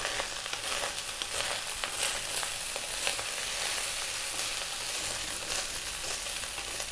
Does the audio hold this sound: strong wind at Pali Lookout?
no